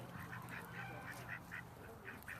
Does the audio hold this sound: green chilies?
no